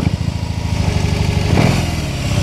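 A 2022 BMW R 18 Transcontinental boxer motorcycle engine fires up and settles into a loud, close, lumpy idle with rapid pulsing beats and a slight rev partway through.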